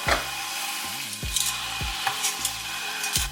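Salmon sizzling in a pan heated with avocado oil: a steady, fine hissing fry throughout, with a few low knocks and clinks of a utensil in the pan over it, and no voices.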